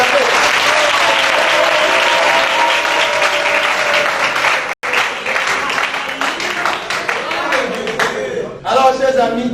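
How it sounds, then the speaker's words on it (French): Studio audience at a televised quiz show finale applauds and cheers the contestants, a loud sustained wash of clapping that briefly dips, then continues with voices under it. "Est-ce qu'on peut voir encore les acclamer?"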